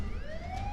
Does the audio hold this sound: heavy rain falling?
no